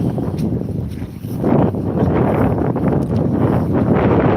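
Gusty wind buffeting the microphone on the wet seafront promenade at Withernsea, rough low rumbling blasts that swell and ease, strengthening after the first second and a half, with no voices.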